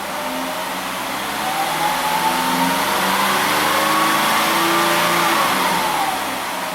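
A Ford Escape engine revs slowly and steadily, its pitch rising and then easing back in one drawn-out sweep, loud and close with no voices.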